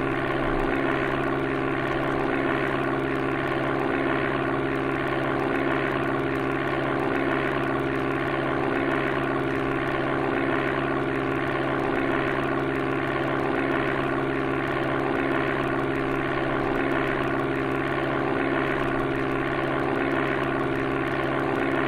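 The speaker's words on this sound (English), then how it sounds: "That nice, graceful takeoff there." A propeller plane drones steadily during takeoff in the Amiga game Flight Simulator II, a dense, buzzy, unchanging synthetic engine tone with no pauses.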